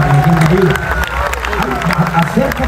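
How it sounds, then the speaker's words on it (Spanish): Church congregation at a pastor's service claps and cheers, loud voiced shouts and murmurs mixed with a continuous rumble of applause filling the room. "Un aplauso, gracias, amiga, por haberme ayudado."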